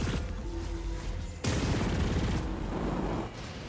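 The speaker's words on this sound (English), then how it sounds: "Who's shooting? You shooting?" Dense gunfire rattles in a Chorus space-combat game, a sustained burst of weapon fire and impacts that thickens into a heavier barrage halfway through before easing slightly at the end.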